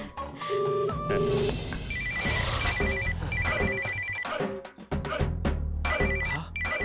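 A phone ringtone plays loudly and continuously, with a repeating melodic tone pattern over a busy musical backing, no talking.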